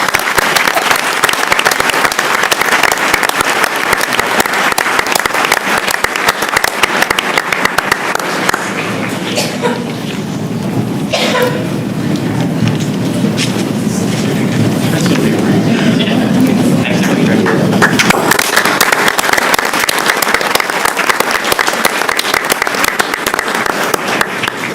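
Sustained audience applause at a school board of education meeting, broad and steady for about twenty-five seconds, with a brief dip in the middle before swelling again.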